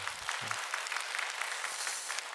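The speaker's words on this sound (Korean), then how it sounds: "자, 우리 4교구를 위해서도 박수하겠습니다." A church congregation at an early-morning prayer service bursts into dense, sustained applause that fills the whole stretch, with a brief murmur of voices near the start.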